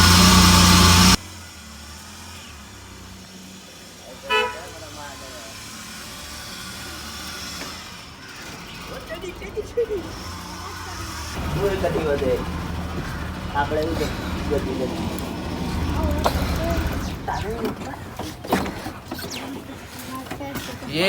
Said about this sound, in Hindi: ये अब गाड़ी मैंने बाहर निकाल दिया है